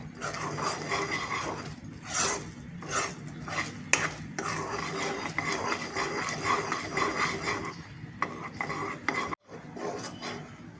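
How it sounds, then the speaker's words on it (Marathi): A spoon stirring thick Mysore pak in a metal kadhai, irregular scraping and knocking strokes at close range, with a dog barking now and then in the background. "जोपर्यंत तो कढईला सोडत नाही तोपर्यंत हलवत राहायचं"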